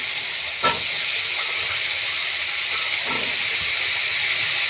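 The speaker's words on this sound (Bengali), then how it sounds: "নেড়ে নেওয়ার পরে আমি আলুটা দিয়ে দিচ্ছি এর মধ্যে" Onions and potato pieces frying in a pan give a steady, broad sizzling hiss throughout, with a few faint clunks as the potatoes go in near the start.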